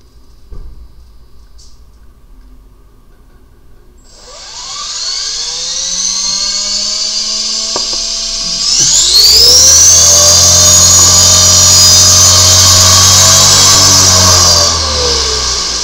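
An HK-450GT flybarless RC helicopter spools up from quiet, its rotor whine rising steadily in pitch and loudness and then holding as a loud, close, sustained whir with no talking.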